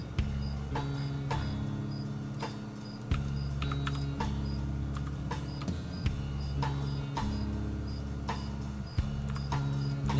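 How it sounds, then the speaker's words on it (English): A cricket chirps loudly in short, evenly spaced high bursts that repeat steadily over music with a steady beat. "the cricket is fine, but it's starting to get loud"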